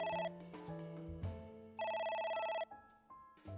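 Telephone ringing in the video game AI: The Somnium Files, a loud electronic ring in repeated bursts with a trilling tone, set over soft background music.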